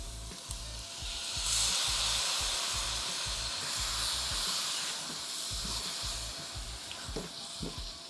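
Tomatoes tumble into a hot chili con carne pan of browning meat and aromatics, setting off a steady loud sizzle and hiss with soft stirring knocks throughout.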